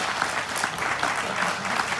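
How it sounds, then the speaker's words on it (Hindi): An audience at a comedy show applauds the comedy artists with dense, continuous clapping, even and fairly loud throughout, with no talking over it. "इनके लिए जोरदार ताली बजाओ भाई"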